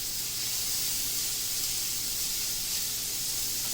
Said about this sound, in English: Let's drop our patties on the grill. And that's what you want to hear.